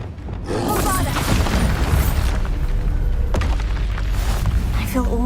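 The Bombarda spell explodes in a Harry Potter video game, a loud, sustained booming blast with crackling debris and rumble, dense and close.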